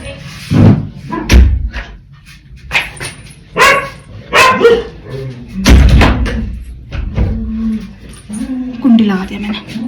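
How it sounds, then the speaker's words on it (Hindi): A dog barks several times in short bursts close by indoors, with thumps and a door slam mixed in while someone talks over it. "बहुत भौंक रही थी"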